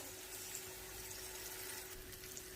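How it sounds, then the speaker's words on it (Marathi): Water is poured into a pot holding a spiced gram-flour and tomato mixture for thin pithla, a faint, steady trickling fill lasting a couple of seconds. "याच भांड्यात थोडंसं पाणी घ्यायचं."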